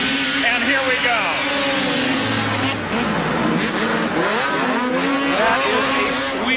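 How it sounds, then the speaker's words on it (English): Racing snowmobile engines, including a Polaris, roar at the start of a pro open snocross race in Minnesota, loud rising whines and revs overlapping, while commentators talk over them. "Engines come up, they're underway."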